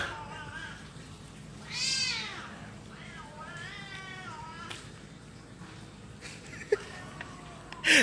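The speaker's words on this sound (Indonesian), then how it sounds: "Jadi ada kucing kawin di sana, terus kucing berantem nggak tahu kenapa." Cats meow and caterwaul while mating and fighting, with several drawn-out wavering yowls at moderate distance over a quiet background, and a sharp clatter at the end.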